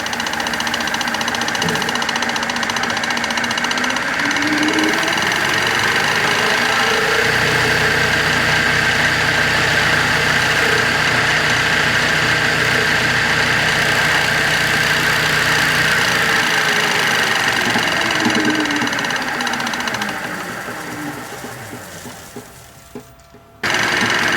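A wood lathe spins a turned genie bottle at 1,000 RPM for buffing, giving a loud, steady motor hum with a faint rumbling undertone that holds for about twenty seconds, then winds down and fades near the end.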